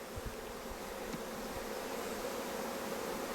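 Honey bees buzz around an active hive, a dense steady hum close by with occasional faint individual bee passes.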